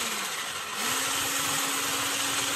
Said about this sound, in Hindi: अब हमें हैंड ब्लेंडर से इसे ब्लेंड करना है